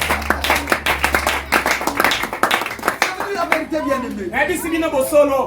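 A church congregation claps in a quick, rhythmic burst of applause that fades after a few seconds, with a voice speaking over the clapping and continuing alone at the end.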